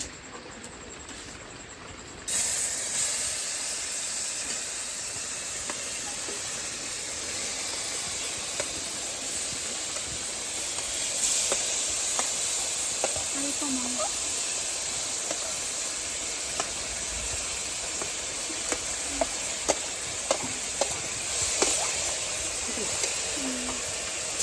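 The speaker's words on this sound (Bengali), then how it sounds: "তো নারকেলটা কিন্তু এখন ভালো করে ভেজে নিতে হবে।" Coconut and sugar filling fries in a wok, a continuous soft hiss and sizzle running steadily throughout, with occasional faint clicks and a bird calling far in the background.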